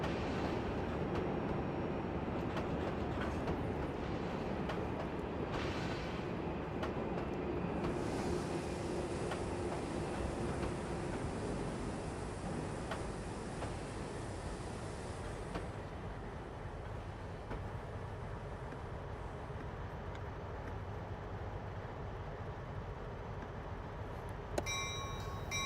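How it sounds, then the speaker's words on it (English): A commuter train of Comet V cars runs steadily along the Bayport Branch in snow, a continuous rumbling roar with faint rail clatter and a hiss throughout. "This is the train to Brightwater."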